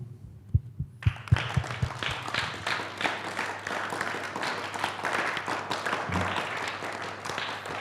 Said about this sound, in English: So applause to everyone